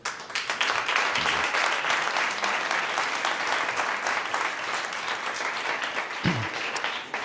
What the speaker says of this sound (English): So I would ask you an applause for the teachers.